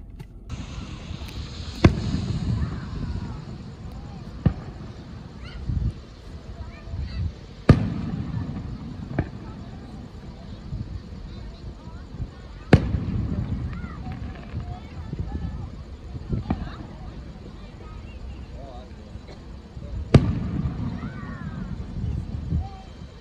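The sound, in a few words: Fourth of July fireworks in the distance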